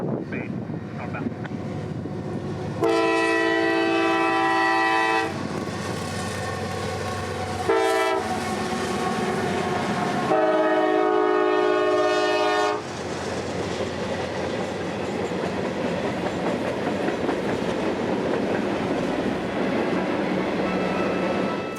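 Train 311 led by two biodiesel locomotives passes with several long, loud horn blasts, followed by a continuous rumble and clatter of rolling cars, heard close.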